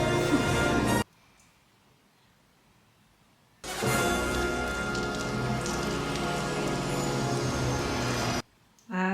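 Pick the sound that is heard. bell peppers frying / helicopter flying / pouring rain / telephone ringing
pouring rain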